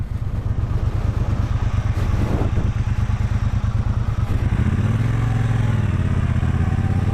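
A 2017 Triumph Bonneville Bobber with about 1,800 miles idles close by in a steady, even thrum, then its engine note shifts and settles into a lower, smoother running tone partway through.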